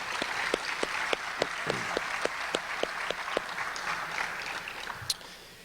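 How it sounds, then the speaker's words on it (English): Scattered clapping from a small graduation audience, individual claps distinct and spaced rather than a dense roar, tapering off toward the end. "So please help me give a round of applause to them and thank them."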